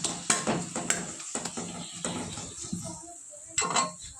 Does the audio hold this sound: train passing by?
no